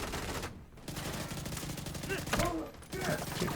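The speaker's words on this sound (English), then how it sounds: "I'm taking a lot of fire here!" Dense video game gunfire, rapid overlapping shots forming a continuous barrage that fills the whole stretch, loud and busy, with faint voices mixed underneath.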